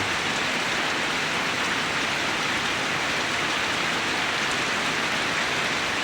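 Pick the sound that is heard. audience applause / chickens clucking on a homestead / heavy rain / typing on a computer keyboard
heavy rain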